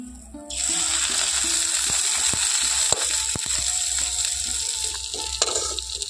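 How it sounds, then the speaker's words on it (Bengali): Neem flowers frying in a pan give a soft continuous sizzle beneath intermittent clicks and metallic taps of utensils, with a few sharp knocks; a faint humming tone drifts underneath. "আর এখানে এগুলো ভাজা হতে থাক।"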